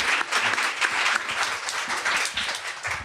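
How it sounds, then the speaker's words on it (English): An audience at a live event applauds steadily, a dense wash of many hands clapping at close range with no pauses. "They were actually clapping."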